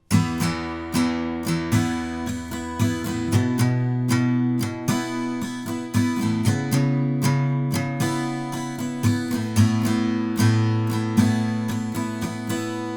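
An acoustic guitar strums the verse of a song in a steady up-and-down pattern, with chord changes ringing out clearly and close, no voices.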